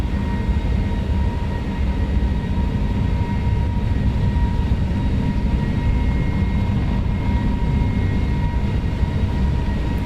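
Airbus A321neo engines at takeoff thrust on the runway at Tenerife make a loud, continuous roar with a steady tonal whine running through it, unbroken for the whole stretch.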